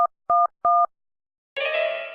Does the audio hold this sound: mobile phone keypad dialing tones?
yes